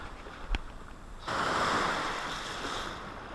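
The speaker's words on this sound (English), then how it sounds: "Waves are serious too." Ocean waves break on a beach in a steady, loud wash of surf. A sharp knock comes just before the roar swells midway through and holds.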